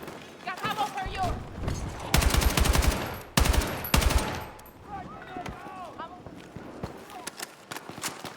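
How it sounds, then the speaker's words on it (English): Rapid bursts of machine gun fire ring out in a video game, loud and close, with stretches of sustained automatic rattling among quieter gameplay sounds and scattered effects. "Machine gun!"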